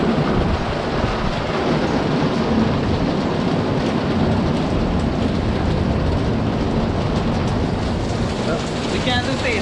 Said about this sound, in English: Rain even come down more.